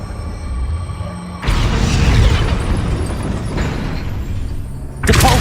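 In the video game Hogwarts Legacy, a Wingardium Leviosa spell effect sets off as a sudden deep whooshing rumble that swells, holds for several seconds and then surges again. The sound is loud, over a quieter game ambience.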